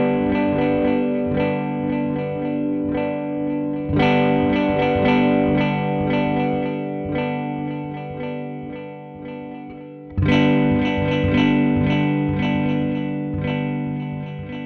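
Sustained guitar chords ring through an MXR Joshua Ambient Echo pedal with the secondary echo switched in, smeared repeats trailing each strum; two fresh chords hit around four and ten seconds and decay slowly.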